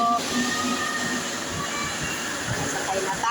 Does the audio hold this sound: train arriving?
yes